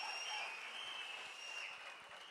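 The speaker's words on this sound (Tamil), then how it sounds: "ஒரு அரங்கம் நிறைந்த கைத்தட்டல் அண்ணனுக்கும் மாவட்ட செயலாளர்களும்" Audience applause fills the hall at a political party's third-anniversary event, a fairly faint, steady patter of many hands clapping that tapers slightly toward the end.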